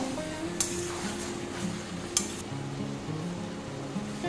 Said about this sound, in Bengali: 2-3 মিনিট খালি আলুটা একটু কষে নেব।